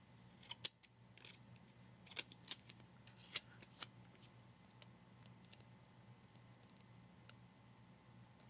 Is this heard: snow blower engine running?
no